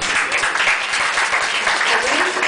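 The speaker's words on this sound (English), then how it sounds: "let's give her a round of applause" An audience at a small cafe music night claps for a performer, a dense patter of many hands that stays fairly close and lively throughout, with a little chatter mixed in.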